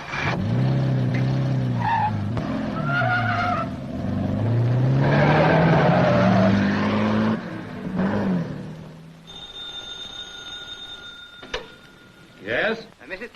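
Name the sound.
car being driven away with tires squealing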